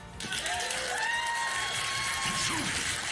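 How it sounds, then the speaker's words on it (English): Dense audience applause with cheers and whoops at a live comedy show, a loud continuous wash of clapping with voices shouting over it. "Clap if you had parents."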